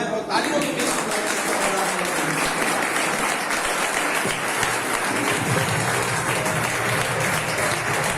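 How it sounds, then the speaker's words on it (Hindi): An audience at a monthly seminar meeting in India claps in a dense, sustained round of applause that starts abruptly and continues loud and steady throughout. "लोग खड़े होकर के तालियां बजाएं"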